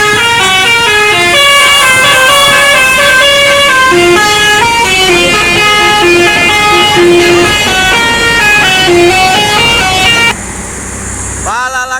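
A Sumatran intercity bus sounds its musical telolet horn, a loud, bright run of stacked melodic tones that changes pitch for about ten seconds before cutting off, with roadside traffic noise and onlookers calling out beneath it.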